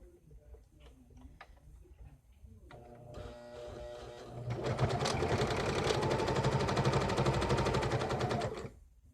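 A sewing machine stitches across the bottom of a fabric face mask: a few soft clicks and short starts, then a long, fast, steady mechanical whir close by that runs for several seconds before stopping abruptly.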